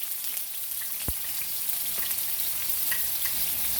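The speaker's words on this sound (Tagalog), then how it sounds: "Iprito po muna natin ang tokwa." Tofu frying in hot oil in a pan, a steady crackling sizzle with occasional sharp pops and spatters, close and continuous.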